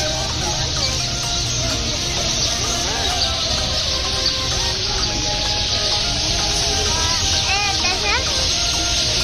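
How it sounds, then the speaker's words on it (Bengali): Many birds chirp and twitter together in a forest by a station, a dense, busy chorus of overlapping calls under a constant broad outdoor hiss, with people talking nearby. "কত আওয়াজ না পাখির।"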